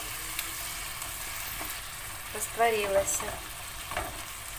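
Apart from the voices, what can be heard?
stewing and stirring okra with tomato and pepper paste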